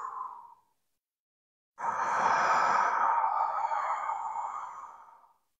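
Two deep breaths during a relaxation breathing exercise: a short exhale, a pause, then a long, airy, close-up breath sustained for several seconds before fading out.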